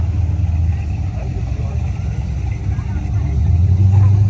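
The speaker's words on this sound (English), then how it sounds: "And then we got this BMW attached to an engine." A BMW engine idles and rumbles at an LS-focused car show, a loud, steady low throb with a rise in revs toward the end, heard through outdoor crowd noise and chatter.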